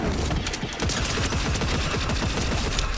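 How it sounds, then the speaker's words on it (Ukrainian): Rapid bursts of automatic gunfire crackle in a Fortnite match, dense overlapping shots firing in quick succession, loud and close for the whole stretch with no talk over them. "Так, стрілянина."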